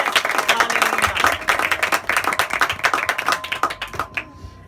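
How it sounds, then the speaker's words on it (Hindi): Loud applause from a church congregation during a service, dense rapid clapping close by that thins into scattered claps before stopping near the end. "जोरदार ताली हो जाए"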